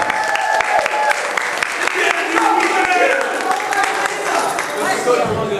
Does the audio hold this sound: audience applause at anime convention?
yes